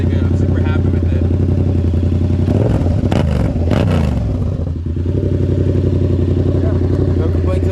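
A 2024 Yamaha MT-07 motorcycle with a newly installed aftermarket exhaust idles and revs gently at low RPM around 3,000, a loud, close, deep throbbing rumble that swells briefly in the middle and then settles back to a steady idle.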